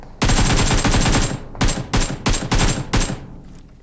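Gunfire in PUBG Mobile: a long, loud automatic burst is followed by four short, rapid bursts in quick succession, all close and sharp, with no voices.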